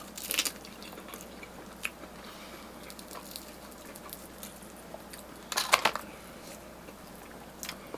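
Crunchy Korean fried chicken bitten and chewed up close, a few sharp crisp crunches spaced among quieter chewing, no talk.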